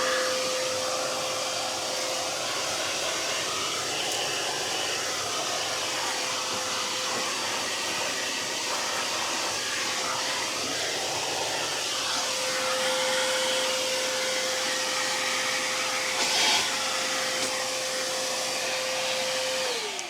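A Harbor Freight vacuum fitted with a brush attachment runs steadily and loudly throughout, with a constant whine and broad airflow roar. A brief bump comes near the end.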